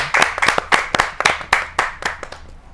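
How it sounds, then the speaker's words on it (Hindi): An audience at a Hindi poetry gathering claps in welcome, a close run of sharp, rhythmic hand claps about every quarter second that thins out toward the end. "जोरदार तालियों के साथ उनका स्वागत"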